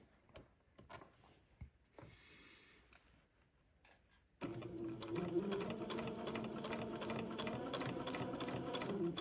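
A sewing machine stitches alongside a pleating row on fabric, starting abruptly partway through with a steady rapid mechanical chatter after quieter scattered handling clicks and taps.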